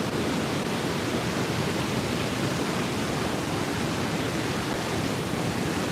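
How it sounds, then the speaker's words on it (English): Roaring Horseshoe Falls at Niagara Falls, a dense, steady wall of broadband water noise that stays loud and unbroken throughout, with no voices heard. "We're going to go over to Horseshoe Falls."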